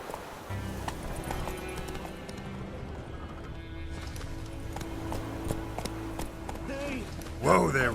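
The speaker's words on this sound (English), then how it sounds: "Whoa there, Roach." Horse hooves clip-clop at a gallop in The Witcher 3, a rhythmic thudding that slows toward the end, followed by a short whinny, with a voice speaking briefly.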